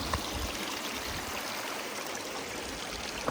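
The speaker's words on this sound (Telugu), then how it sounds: "కొంచెం వాటర్ వస్తున్నాయి, ఎక్కడి నుంచి వస్తున్నాయో కూడా తెలీదు" Water flowing in a forest stream, a continuous, even rush of trickling water close by with no voices.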